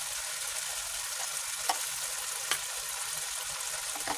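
A sour dish (tok) with turmeric is stir-fried in a pan, giving a quiet, continuous sizzle broken by a few faint scrapes of the spatula.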